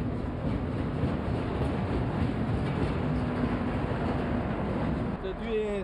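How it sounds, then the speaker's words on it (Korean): An electric train rolls into a railway station in South Korea with a dense, steady rumble of wheels and machinery that holds loud throughout, with a metallic squeal near the end. "전동차가 들어오고 있다."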